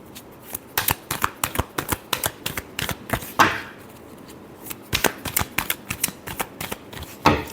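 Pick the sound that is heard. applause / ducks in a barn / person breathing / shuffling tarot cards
shuffling tarot cards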